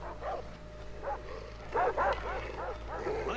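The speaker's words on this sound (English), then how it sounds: "There's a dog there." Dog barking in the video game Far Cry 3, several short barks and yips in quick bursts, fairly close, with a low background hum and no talking over them.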